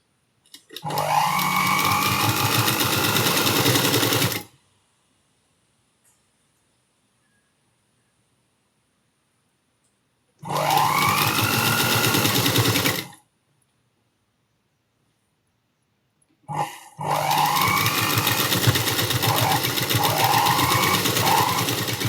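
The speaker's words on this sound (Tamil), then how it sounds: "அப்படியே சுற்றி தையல் போட்டு வந்துடலாம்" A sewing machine stitches scallop embroidery around a blouse sleeve, running in three loud, steady bursts separated by silent pauses, with no talking.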